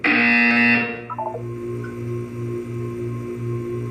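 A harsh electronic buzzer blares loudly for under a second in the game Portal 2, then cuts off and gives way to a softer pulsing hum with a few short tones, no talk.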